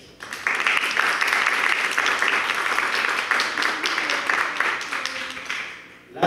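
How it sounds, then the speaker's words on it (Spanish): An audience applauds at the close of a university research event, sustained even clapping from many hands rising quickly and holding for about six seconds before tapering off. "un aplauso para todos"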